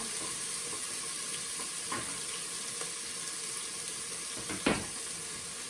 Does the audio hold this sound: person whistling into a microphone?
no